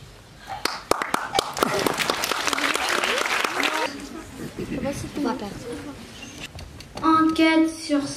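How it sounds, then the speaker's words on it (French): Applause breaks out at a French high school event, crisp individual claps thickening into a brief round that fades as a voice starts talking, then a burst of music follows. "derniers applaudissements"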